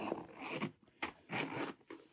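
A zipper on the card pocket atop the magnetic flap of a handbag is pulled in a few quick, scratchy bursts with short pauses between, close and fairly quiet.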